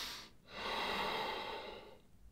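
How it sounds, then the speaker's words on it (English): A single slow, deliberate breath drawn in and let out, soft and close, broad airy hiss swelling for about a second and a half then fading, alone with no talking. "Just one inhale and a conscious inhale and exhale."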